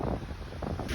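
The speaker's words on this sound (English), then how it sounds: "right now it's quite windy" Wind blowing steadily across a hot sandy beach at Progreso, Mexico, a continuous rushing buffet against the microphone with gusty low rumble and no talking.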